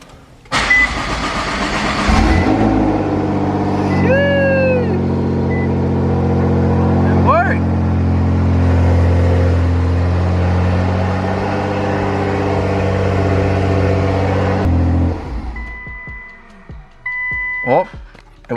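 A Nissan GTR engine cranks and fires up after a battery swap and jump box, catching with a loud close roar that settles into a steady rumbling idle for many seconds before cutting off, with people talking over it.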